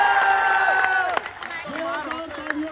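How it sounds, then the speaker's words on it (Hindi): A crowd at an SSC protest in Delhi claps and cheers for a teacher, the applause blending with shouting voices and crowd babble, with sharper bursts scattered throughout. "इससे भी जोरदार तालियां आपके आदित्य रंजन सर के लिए होनी चाहिए।"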